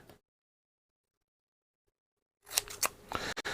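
Scissors cut through paper and masking tape at a workbench, with a few sharp close snips and crunches that begin after a long silence.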